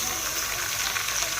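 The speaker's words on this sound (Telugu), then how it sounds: "చికెన్ వేసుకోవాలి మనము. చికెన్ ఇలా వేసుకొని" Chicken pieces tipped into a hot pot of Telangana-style chicken pulao, hissing with a steady, loud, close sizzle that holds evenly throughout.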